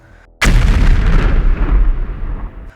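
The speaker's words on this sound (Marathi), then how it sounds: "जमिनीखाली अणुबॉम्बचा स्फोट झाला" A sound effect for India's first underground nuclear bomb test, 1974, in the Pokhran desert: one sudden, very loud deep blast that rolls on as a long low rumble and slowly fades, with no voices.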